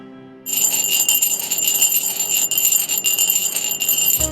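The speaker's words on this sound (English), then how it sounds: "This rough edge creates the Edo Fūrin's unique sound." An Edo Fūrin glass wind bell rings as its clapper rubs the rough, jagged edge of the opening, producing a sustained, shimmering high tinkling that continues steadily and close for several seconds.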